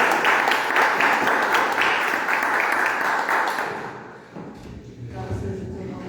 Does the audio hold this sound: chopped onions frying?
no